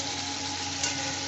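Spices frying in oil for a pabda fish curry with potatoes: a steady, close hiss and sizzle, uniform throughout the short stretch with no talk.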